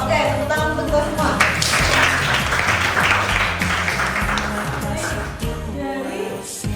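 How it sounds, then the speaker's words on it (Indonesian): A group applauds during a school guidance-counseling class session, a burst of clapping that rises and then fades, mixed with voices talking throughout. "tepuk tangan untuk kita semua"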